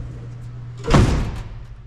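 The door of a Kenworth K100 truck under restoration, a door needing adjustment, slammed shut once, a heavy thud midway through, with a low engine or ambient hum before it.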